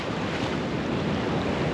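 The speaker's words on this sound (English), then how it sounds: "The waves today are super strong." Strong ocean surf rolls in continuously at South Padre Island beach, a loud, dense wash of breaking waves with wind rumble against the microphone, no voices present.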